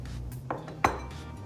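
A metal spoon scrapes and clinks against a bowl while scooping sliced avocado, two sharp clicks of utensil on dish over a quiet background.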